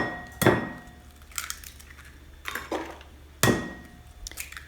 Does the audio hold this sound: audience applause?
no